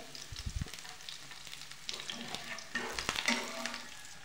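Potato and fenugreek bhaji with coriander and crushed peanuts sautéing in a hot pan, a continuous sizzle broken by scraping stirs and a few sharp utensil knocks, growing slightly louder toward the end.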